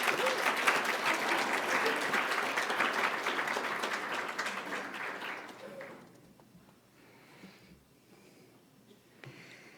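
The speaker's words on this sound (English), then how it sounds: "Another round of applause for this group." Audience applause at an annual scholarship celebration, a steady dense clapping that fills the hall for about six seconds before thinning out into faint scattered claps and room noise.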